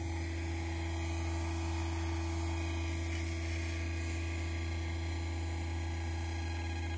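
The Lifeforce magnetic energy machine, once switched on, gives a constant low electrical hum. The tone stays steady and even throughout with a faint buzz and no voices.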